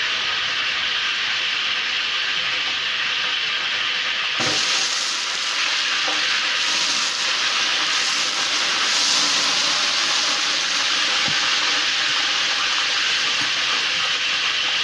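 Loud, steady sizzling and hissing of garlic, ginger and onion sautéing in a hot pan for beef biryani, intensifying suddenly as ingredients hit the oil, with occasional stirring.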